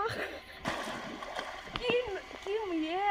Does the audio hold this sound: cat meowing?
no